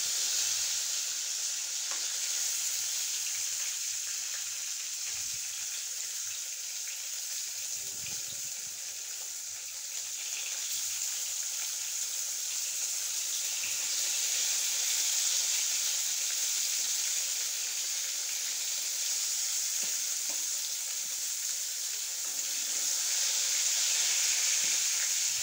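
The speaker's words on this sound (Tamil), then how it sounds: "கத்திரிக்காய் வேக வச்சு நம்ம எடுத்துக்கிடணும்" Whole brinjals cooking in a pan of oil make a continuous, moderately soft sizzle that holds steady with only slight swells, and no one speaks over it.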